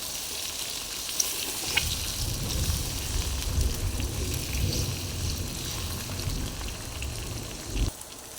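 Garlic fried rice with eggs sizzling in a pan, a steady dense crackle close up with occasional scraping stirs and clinks, no talk.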